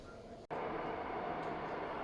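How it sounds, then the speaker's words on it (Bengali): A Riyadh Metro train pulls into the platform, a steady, fairly quiet broadband rumble that begins abruptly after a brief dip and holds evenly to the end. "আমাদের ট্রেন চলে আসছে।"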